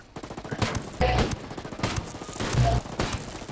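Gunfire in the Ghost Recon Breakpoint video game: several loud rapid bursts of shots in uneven volleys, with players talking over the firing.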